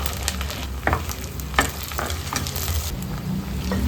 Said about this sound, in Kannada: ಕಟ್ ಮಾಡಿದ ಈರುಳ್ಳಿನ ಹಾಕೊಂಡು ಈರುಳ್ಳಿ ಚೆನ್ನಾಗಿ ಫ್ರೈ ಆಗಬೇಕು